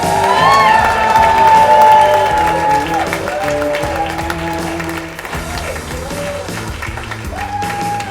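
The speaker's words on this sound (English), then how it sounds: "Big round of applause for Richard Krotseng." Loud audience applause with cheers and whoops welcoming a comedian onstage at a comedy show, sustained throughout with music playing underneath.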